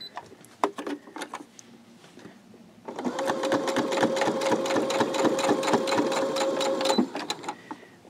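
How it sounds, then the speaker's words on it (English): A sewing machine stitches a small quilted key fob; a few scattered clicks come first, then a loud, close, continuous whirring run of rapid stitching lasts about four seconds before stopping. "what I'm going to do is I'm just going to sew"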